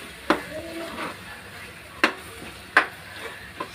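Curry being stirred in a pan on the stove after fresh coriander is added, with scattered scraping clicks of a spoon against the pan at a slow, uneven rhythm over a faint sizzle, close by.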